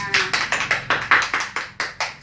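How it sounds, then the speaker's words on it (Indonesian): Rhythmic, even clapping in a classroom, about a dozen sharp claps in a steady beat, loud and close, like a small group clapping in unison. "Tepuk tangan untuk kita semua."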